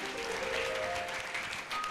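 A congregation clapping at a gospel church service, a brief burst of dense, continuous applause heard alone.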